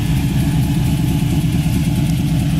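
A white 1969 Chevy Nova idles with dual exhaust, a loud, close, steady low rumble with a slightly uneven burble throughout.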